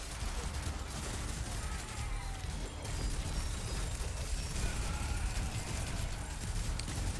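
Explosions and gunfire from the Yet Another Zombie Survivors video game, with a bombing strike ability in play. Dense, continuous crackle of blasts and shots forms a steady, loud wash with no pauses.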